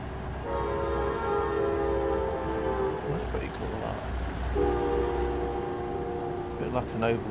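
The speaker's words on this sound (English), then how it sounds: "Oh, there it is. It's like an Amtrak train." A long horn that sounds like an Amtrak train blares in a truck-driving video game, held steady in two sustained blasts over a continuous engine rumble.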